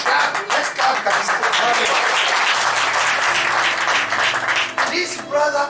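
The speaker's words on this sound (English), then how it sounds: "Yes, let's clap, guys." Church congregation clapping loudly and continuously, a dense, lively applause with a faint low hum underneath.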